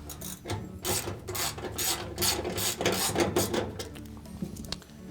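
A nut driver turning out screws from the bottom of a GE washing machine access panel, a close, continuous rasping and ratcheting scrape with short pauses between turns.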